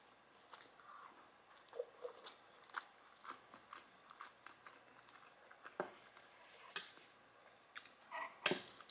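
Close, quiet chewing of steak with rice and spicy green sauce, soft irregular crunchy bites and mouth sounds spread across the stretch with a few sharper clicks, no talking.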